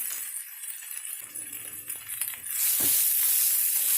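Spiced pork and toasted coconut flakes sizzle steadily in a hot pan while being stirred, the frying hiss swelling louder midway with a few light scraping clinks.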